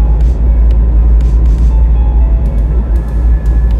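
A Vauxhall Corsa B car driving, a loud continuous low engine rumble and road drone with a few faint clicks and rattles over it, no voices.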